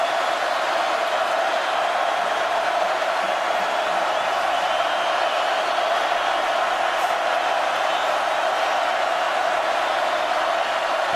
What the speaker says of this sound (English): That's one way to beat the crowd noise.